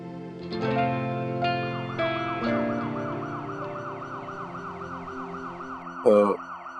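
An ambulance siren warbles and wails repeatedly over sustained musical tones, its pitch sweeping up and down in a steady rhythm, followed by a brief sharp burst near the end.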